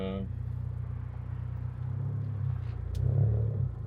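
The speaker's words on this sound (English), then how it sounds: "I think I'll have just the intake and exhaust as like a background noise" A 2016 Ford Focus ST with an aftermarket intake and AWE Track Edition exhaust hums in a low, steady engine drone from inside the cabin, swelling briefly in a mild rev near the end.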